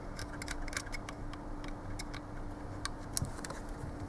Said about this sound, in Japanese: 高速の1000分の1秒チェックしていきます。